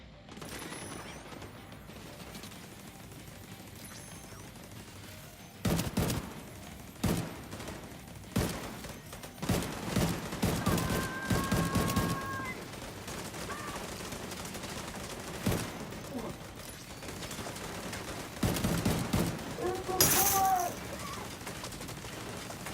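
An automated turret fires in the shooter game The Division 2, sharp gunshot bursts and rapid volleys scattered over a low background hum, some shots sounding distant and others closer.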